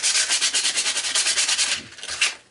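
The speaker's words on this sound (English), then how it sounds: "I'm just going to take some sandpaper and clean the top up a little bit" Sandpaper is rubbed by hand across the top of a restored axe head in quick, rhythmic back-and-forth strokes, a bright, close, scratchy rasp that stays steady and then trails off into a few final passes.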